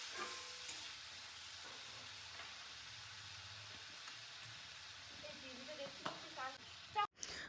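Spices for a Bengali hilsa fish curry are sautéed in a pan with a low, continuous sizzle and scattered scraping stirs, faint and close, ending with a few louder clatters.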